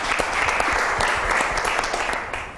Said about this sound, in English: Round of applause as they come in